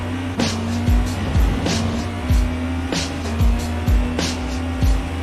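Prototype race car in iRacing at Circuit Gilles-Villeneuve spinning out, a steady engine drone broken by repeated sharp tire squeals and skid bursts roughly every second, loud and close with no talk.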